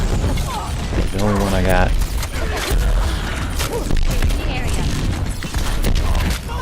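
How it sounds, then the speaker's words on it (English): Rapid barrage of rocket explosions from Pharah in Overwatch, a dense, loud run of booms and thuds packed with game effects, while someone talks over the chaos. "There's my rocket barrage."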